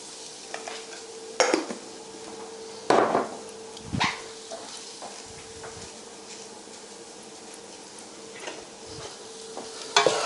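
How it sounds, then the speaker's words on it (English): Potatoes cooking with spices in a pan for a spicy dry potato curry, giving a soft continuous sizzle with occasional stirring scrapes and clatters, fairly quiet and with no talking. "We're only wanting this to cook in the pan now with the spices for a few minutes."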